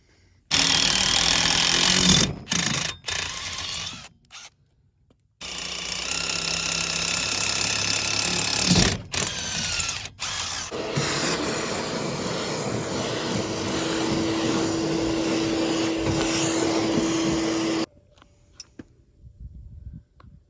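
A power drill bores holes for an E&C Razor swing arm extension install, running in loud, sustained bursts separated by short silent pauses, with a steadier whining tone in the later stretch.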